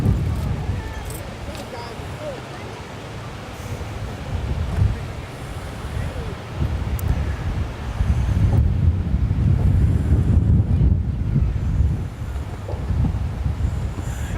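Gusts of wind buffet the microphone at an outdoor youth baseball tournament game, a constant low rumble that swells louder midway, with a voice talking over it.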